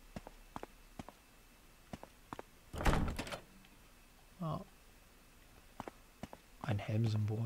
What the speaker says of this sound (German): ob die Tür da hinten aufgeht